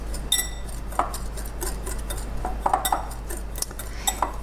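A utensil clinks and scrapes against a bowl while breaking up brown and granulated sugar, giving a few scattered close taps and scratches over a steady low hum.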